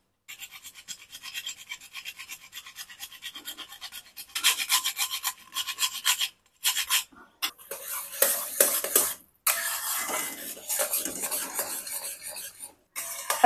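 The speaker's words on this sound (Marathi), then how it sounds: "आपल्याला तर ह्याच्यामध्ये किसून जायफळ घालायचं आहे" Nutmeg is grated into bubbling jaggery syrup for sesame laddoos, giving close, scratchy rasping bursts broken by short pauses, with faint stirring and utensil clinks between them.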